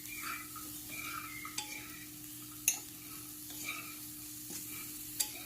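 Ginger frying in a pan for chana masala, a soft steady sizzle broken by a few sharp scrapes and taps of a spoon as it is stirred, fairly quiet and close with no talking.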